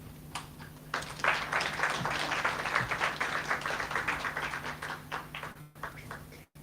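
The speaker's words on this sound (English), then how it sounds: "help me, ladies and gentlemen, to bring Gugu up to the podium by giving her a round of applause." Audience clapping at a stakeholder roadshow event in Polokwane: a quiet, steady patter of hands from a crowd, moderately distant, lasting several seconds before fading out, with a low hum underneath and no talk.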